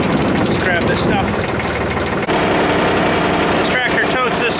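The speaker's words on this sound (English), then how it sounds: "This tractor totes this thing along here pretty good." A tractor engine runs steadily while towing a large trailer, a loud continuous low mechanical drone close by, with someone talking over it.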